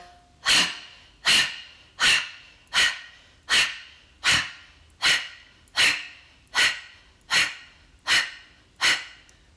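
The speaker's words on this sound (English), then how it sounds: "Take a deep breath in. Exhale out. Inhale in again and go." Forceful breathing during a guided meditation: eleven sharp, evenly spaced breaths about once every 0.8 seconds, each a quick rush of air that fades, close and clear with no talk.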